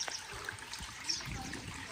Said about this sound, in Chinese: 下雨了之后，山里面随处都是小溪流